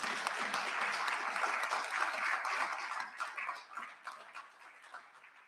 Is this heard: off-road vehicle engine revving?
no